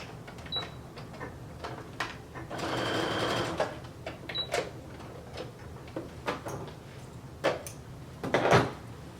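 Sewing machine stitching closed a hole left in a seam, bursts of fast mechanical whirring broken by pauses and small clicks and knocks, heard fairly close and moderately quiet.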